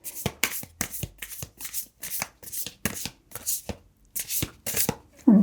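Oracle cards are shuffled by hand in a steady series of quick riffling bursts, about a dozen crisp rustles with short gaps between them, close and clear, with a brief murmur at the end.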